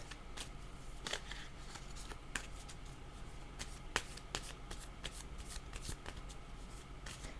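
Tarot cards shuffled by hand for a card reading, a continuous run of riffling and sliding flutters with small snaps, steady and close throughout with no talk.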